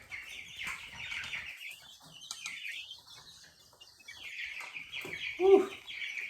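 Young backyard chicks cluck and chirp faintly in short, scattered calls, with one slightly louder peep near the end and soft background noise throughout.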